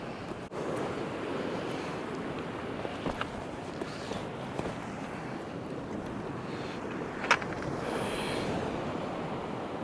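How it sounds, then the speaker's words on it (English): Residual ground swell washes in on the shore at Craster, Northumberland, a continuous broad surf roar with a light northerly wind buffeting the microphone and a few brief knocks, heard alone without voices. "Still got a little bit of residual swell here, bit of sort of ground swell."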